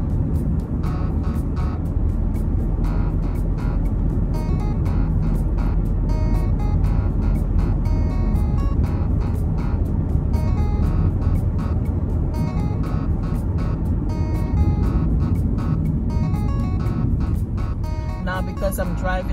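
Steady road and engine noise from inside a car driving through Fort Lauderdale, Florida, a constant low rumble that runs close and unbroken underneath someone speaking.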